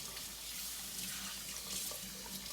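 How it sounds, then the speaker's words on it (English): Running water pours from a kitchen sink faucet to rinse a hot cast iron pan, a steady close splashing hiss with no talk. "And we're just gonna rinse it right off."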